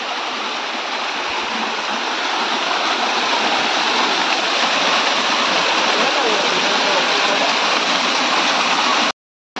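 A forest stream at Kumbhleshwar in the Konkan, where people bathe, rushes loudly and continuously with a dense, even splashing roar close by, then cuts off abruptly at the end.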